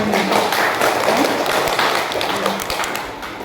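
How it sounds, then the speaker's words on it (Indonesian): An audience claps together at a Buddhist community gathering, a steady broadband patter of many hands that fills the clip at moderate loudness with some voices mixed in. "Tepuk tangan buat kita semuanya."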